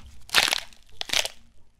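A crushing, crunching sound from the Mickey Mania video game, like snacks being squashed, in two distinct bursts about a second apart, fairly close and moderately loud with no talking.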